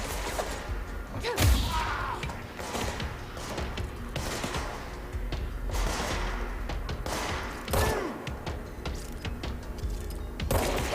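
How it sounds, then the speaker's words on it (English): Gunfire in the PC video game Control, with repeated thumping shots and crashing impacts in a dense, busy mix of continuous combat noise. "Why you gotta shoot me like that?"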